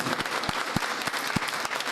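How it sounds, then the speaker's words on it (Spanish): An audience at a local history congress gives applause to licenciado Fernando Julio, a close, dense burst of many hands clapping with a few louder individual claps. "vamos a dar un aplauso al licenciado Fernando Julio"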